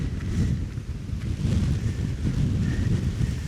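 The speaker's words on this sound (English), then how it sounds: "it's windy up here and it's getting quite fresh" Strong wind on an exposed hilltop buffets the microphone in continuous, roaring gusts, loud and close, with no other sounds standing out.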